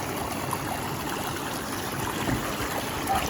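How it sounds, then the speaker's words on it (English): Hot tub jets pushing out water with both pumps running and the air control off, a steady broadband rushing gurgle that stays even from start to finish with no talk. "There's just water coming out of these jets."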